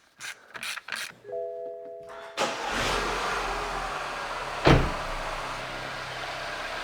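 A BMW F20 starts up after a few clicks and whirs, cranks, then catches into a steady close idle with a brief sharp knock partway through, no talk.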